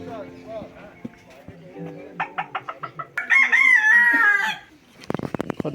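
A bantam rooster at the Sidkeong Tulku bird park in Rapdentse, West Sikkim, gives one long, loud crow after a run of sharp clucks, while people talk nearby throughout.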